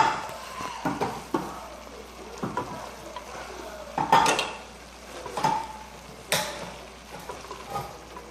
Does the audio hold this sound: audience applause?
no